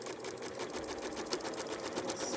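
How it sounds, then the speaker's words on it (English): Home sewing machine stitching along the printed line of a foundation paper pieced quilt block, a steady rapid needle clatter running throughout at close range, with no talk. "We're just sewing on the line."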